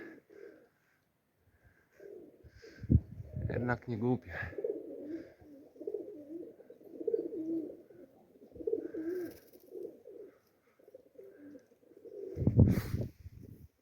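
Pigeons coo in low, rolling throaty calls throughout while someone talks intermittently nearby.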